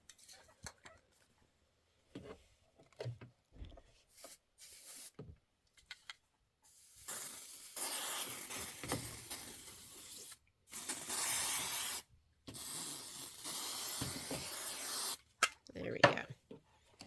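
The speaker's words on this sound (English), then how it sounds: "this needs to get a little shot of spray" A spray bottle mists fabric laid out for pressing at a quilting table, several hissing bursts of a few seconds each separated by pauses, close and clear, with quiet handling sounds before them.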